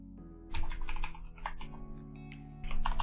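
A computer keyboard is typed on at close range in quick bursts of sharp key clicks separated by short pauses, with a low steady hum underneath.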